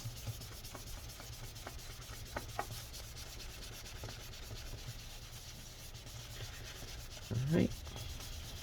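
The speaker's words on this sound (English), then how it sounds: "let's put more rubbing alcohol on there and continue cleaning." MacBook Pro parts are rubbed clean with rubbing alcohol, giving a steady, faint scrubbing that runs throughout, followed by a brief louder thump near the end.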